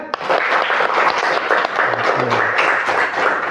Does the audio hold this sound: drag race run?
no